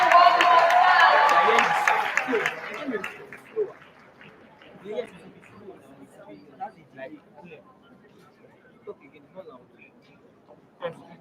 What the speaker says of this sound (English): Please, a round of applause for Mr. Frank